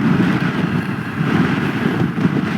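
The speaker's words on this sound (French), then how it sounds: "je vous dis pas le vent qu'il y a" Steady, loud wind buffeting the microphone during a winter motorcycle ride near the Oléron viaduct, a continuous low roar with no pauses and no voices.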